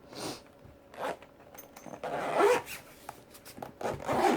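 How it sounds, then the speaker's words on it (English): The zipper of a Monteverde 36 pen case is pulled closed in several short raspy strokes with pauses between them, close to the microphone and with no voices. "let's go ahead and close it up and zip it again."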